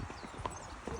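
Hooves of a horse clip-clopping while out hacking, a steady rhythmic series of dull footfalls on the ground, faint and close, with low voices underneath.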